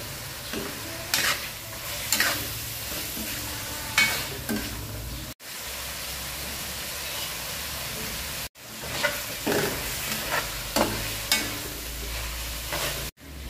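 Fresh squid seasoned with salt and black pepper cooks quickly in a pan, sizzling steadily with repeated stirring clatters and scrapes, the hiss cutting out briefly twice before resuming.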